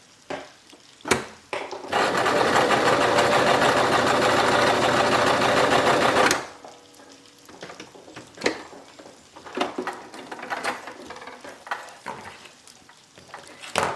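A Brother X3 sewing machine stitches in reverse with a steady, close mechanical whir lasting a few seconds, framed by clicks and knocks from handling the machine before and after.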